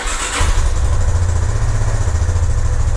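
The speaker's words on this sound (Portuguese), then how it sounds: "Veja aí agora, ó, que o motor tá bem silencioso." A Yamaha Fazer 250 motorcycle, just after a valve adjustment, fires up about half a second in and settles into a loud, steady, close idle with no talking.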